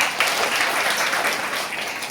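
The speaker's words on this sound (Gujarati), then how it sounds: "સરસ, જોરદાર તાળી થઈ જાય." A classroom of school students breaks into dense, lively applause, many hands clapping at once close by for a couple of seconds.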